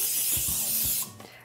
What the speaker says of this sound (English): I am going to spray the pan with a nonstick cooking spray.